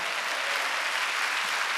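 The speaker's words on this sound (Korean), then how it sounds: "그 하나님이 여러분의 아버지라고 믿는 사람만 박수로 하나님께 영광." A church congregation claps in praise during a Korean Sunday worship service, a dense, even wash of many hands filling the room without a break.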